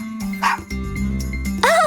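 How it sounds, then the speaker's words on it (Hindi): A happy cartoon dog gives a few short, bright barks and yips mixed with jingly tones, close and clear over a light music bed. "खुशी भौंकने भी लगा।"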